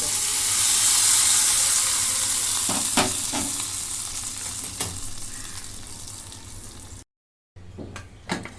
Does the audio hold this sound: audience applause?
no